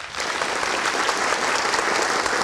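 Dense, continuous applause from a studio audience at an Indonesian political talk show on the 2024 election, many hands clapping evenly and loudly throughout with no speech.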